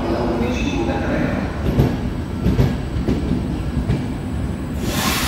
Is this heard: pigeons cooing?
no